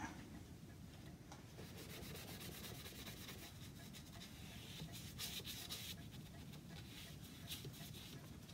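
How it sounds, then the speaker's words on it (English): Steady close-up rubbing as dark water-based stain is worked into sanded wood on a piece being given a faked patina, a continuous soft scrubbing texture with brief stroke accents throughout. "now I'll just give it a coat of a dark water stain."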